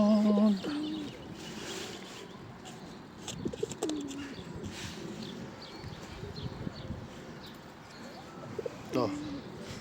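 Pigeons cooing as they feed outdoors in Ireland, soft low coos with scattered chirps and wing flutters, close by, while a person talks intermittently over them.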